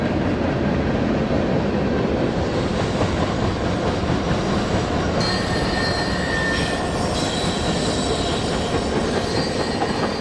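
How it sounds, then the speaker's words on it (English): A long freight train headed by a GE AC-44C6M and a Dash 9 locomotive rumbles past loud and close on the Port Road near Peckway Creek, with a steady roar of rolling cars and occasional wheel squeal. "A GE AC-44C6M and a Dash 9 that will someday be rebuilt into one lead the train over Peckway Creek"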